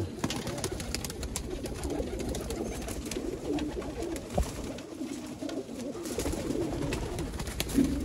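Many pigeons, including golden pigeons, coo over one another in a dense, continuous murmur, with occasional wing flutters and rustling close by.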